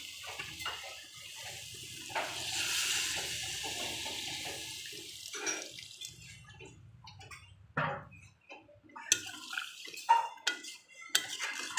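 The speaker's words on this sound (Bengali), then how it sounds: "এবার আমি জল দিয়ে দেবো" Water is poured into a cooking pot during a soybean and potato curry, a gushing splash early on followed by scattered clinks and knocks of the pot and utensils, close and fairly soft.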